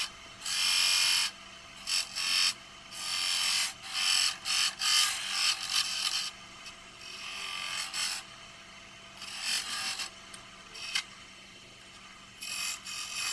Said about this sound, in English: Here's where I delineate the border with the skew chisel